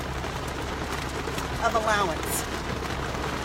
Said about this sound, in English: it's raining like hell outside right now, so I'm just going to let it rain and keep talking